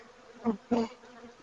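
Honeybees buzz during an early-season beehive inspection as frames full of brood are lifted, the close buzzing swelling in two short, loud bursts over a softer, steady hum.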